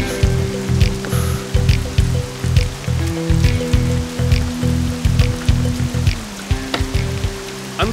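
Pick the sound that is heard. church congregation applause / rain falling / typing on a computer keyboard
rain falling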